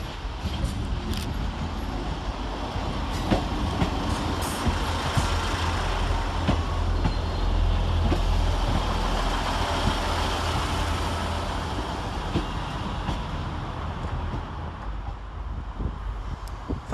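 Northern Rail unit 158901 arrives at Sheffield station to terminate from Leeds, making a continuous rumbling engine drone and rolling wheel noise with scattered clacks and squeals, fairly loud and steady throughout.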